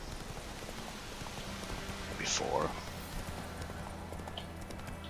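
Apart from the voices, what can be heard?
horse hooves in The Witcher 3: Wild Hunt video game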